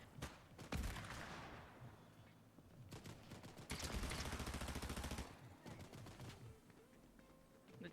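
Gunfire in the video game Fortnite, rapid bursts of automatic shots in two dense clusters with quieter scattered shots between, fairly loud in the mix.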